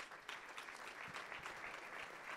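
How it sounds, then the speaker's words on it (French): Audience applause closing a morning session of a basketball coaching clinic, a steady dense wash of many hands clapping together, sustained and even throughout with no voices over it. "Je pense qu'on peut l'applaudir très fort."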